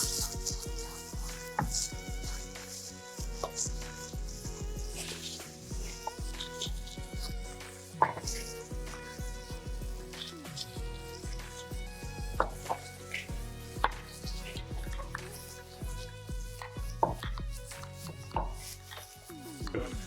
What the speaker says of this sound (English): I'm going to just chop up some chives